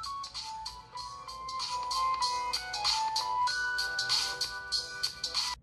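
Music plays from a Sony Xperia phone's built-in speaker set below maximum volume, a bright, melodic tune with repeated notes filling the clip at moderate loudness.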